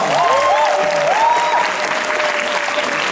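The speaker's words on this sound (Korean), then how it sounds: "큰 박수로 부탁드립니다" Theater audience applauding at the final curtain call of a Korean musical, steady full clapping throughout with a faint voice or whistle sliding above it.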